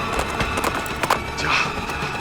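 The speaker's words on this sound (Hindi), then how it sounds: "मेरा ही घोड़ा है शमशेर" A horse gallops away in a TV drama scene, with rhythmic, fairly loud hoofbeats in a continuous run over a steady background.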